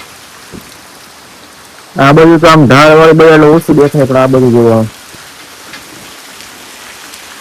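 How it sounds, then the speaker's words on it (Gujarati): Heavy monsoon rain hisses steadily throughout in a Gujarat village with water running through the market streets, with someone talking loudly close by for several seconds in the middle. "ઘણા દિવસ પછી વરસાદ આવે ફૂલ આવો માંડ્યો છે"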